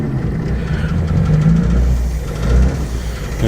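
A Jaguar XJ8 X308 engine runs with a steady, loud low-pitched hum close by and swells twice as the throttle is blipped, with no talk.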